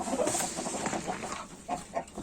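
Ornamental chickens and roosters in a coop squawk and cluck loudly and repeatedly at close range, a busy overlapping racket with no voices.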